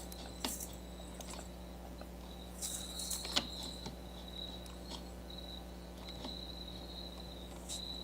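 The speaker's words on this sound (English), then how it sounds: "Yeah, those are my pet crickets." Pet crickets chirping close by, a steady high-pitched trill pulsing in repeated bursts over a faint constant hum, with no talking.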